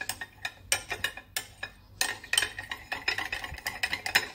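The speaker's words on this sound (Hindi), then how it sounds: "ये तीनों सॉस को मिक्स कर देंगे" Three sauces stirred together in a bowl for a chicken 65 grilled sandwich, giving a close, brisk run of clicking, scraping spoon strokes in quick rhythm with no talking.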